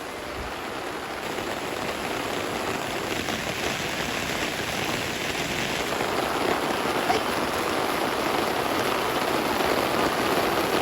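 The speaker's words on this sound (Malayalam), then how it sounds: "heavy rain." Heavy rain pours down steadily, a dense, continuous hiss with no pauses and no voices.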